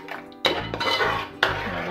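Butter chicken gravy with salt stirred in a pan: metal spoon scraping and clinking against the pan, with two sharper knocks standing out from a steady, close scrape.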